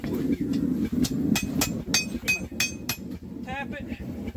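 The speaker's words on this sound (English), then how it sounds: "Tap it so that it sits flat on the anvil with the bottom part flat under my hand" Hammer tapping bent metal flat on an anvil: a series of sharp ringing metallic taps at an uneven pace, close and fairly loud over low background rumble.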